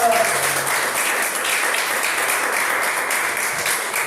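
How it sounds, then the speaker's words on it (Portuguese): A church congregation applauds Jesus during a sermon, producing a steady, continuous wash of clapping from a crowd with no clear pauses. "Aplauda o Senhor Jesus"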